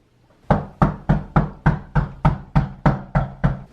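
Eleven evenly spaced, firm knocks on a door, sharp and close, sounding alone after a moment of near silence.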